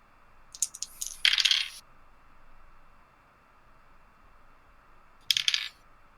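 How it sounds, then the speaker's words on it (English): Dice clatter onto a tabletop in two sharp bursts, the first a cluster of rattling bounces, then a quiet gap before a second brief roll. "I'm done rolling dice now"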